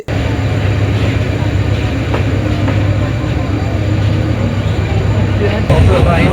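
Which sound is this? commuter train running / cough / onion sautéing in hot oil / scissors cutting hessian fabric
commuter train running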